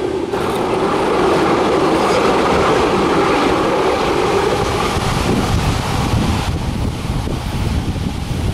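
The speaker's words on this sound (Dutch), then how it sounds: "we gaan hier eventjes trams spotten" A tram rolls through a stop in Utrecht, a steady loud rumble of wheels on rails lasting the whole stretch, with gusting wind buffeting the microphone and no voices.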